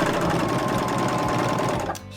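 A Baby Lock Vibrant serger stitches a 3-thread narrow stitch along fabric, a loud, steady, fast mechanical whir running close up for about two seconds and then cutting off abruptly.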